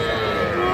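A young calf at a cattle market selling small bull and heifer calves gives one short, loud, close moo that fills the whole moment.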